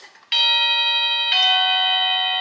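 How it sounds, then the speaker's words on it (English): A household doorbell rings indoors, two clear electronic chime tones struck in succession, the second sustaining and ringing on, loud and near with no talk over it. "That's the doorbell."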